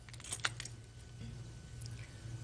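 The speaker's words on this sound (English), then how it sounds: "The exchanging of the keys." Keys handed over in a courtroom, giving a brief metallic jangle near the start, then a low steady hum.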